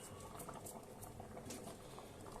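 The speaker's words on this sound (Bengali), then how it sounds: "চাল ডাল আমি একসঙ্গে ফুটিয়ে নিচ্ছি" Rice and lentils boil together in a pot, a soft, steady bubbling and popping that carries on evenly throughout at low volume, with no voices.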